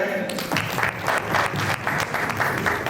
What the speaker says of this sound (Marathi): त्यांच्यासाठी जोरदार टाळ्या